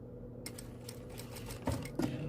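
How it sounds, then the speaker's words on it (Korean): A sewing machine stitches a T-shirt neckline in short quiet bursts of fast rhythmic needle tapping, with a couple of louder knocks toward the end. "박음질 하실 때는 여기 몸판 쪽 원단하고 넥라인을 딱 고정되게 밀리지 않도록 딱 양쪽 손으로 고정해 주세요"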